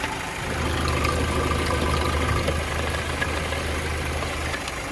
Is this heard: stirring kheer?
no